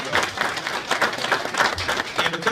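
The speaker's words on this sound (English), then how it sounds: "One more round of applause, please" An audience at a press conference for the Magic City Classic HBCU football game applauds, a brief burst of moderately loud, uneven clapping that pulses throughout.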